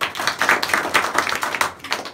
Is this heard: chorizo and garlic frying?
no